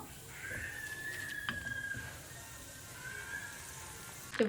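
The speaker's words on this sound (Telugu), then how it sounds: "అటుకులు కూడా ఫ్రై అయిపోతున్నాయి. క్యాష్యూ వేస్తున్నాను." Poha and cashews frying in hot oil give a soft, steady sizzle throughout, with a faint higher hiss and a brief clatter near the end.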